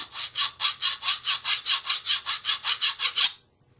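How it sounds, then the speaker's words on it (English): A hand file is stroked across a lathe parting tool chisel during sharpening, about sixteen even rasping strokes in steady rhythm, close and loud, then abrupt silence. "And start filing."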